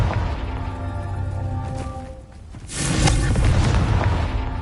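A Confringo fire spell detonates in the Hogwarts Legacy video game, a loud booming burst near the three-second mark that swells over a busy game soundtrack and then rumbles on as a sustained blast.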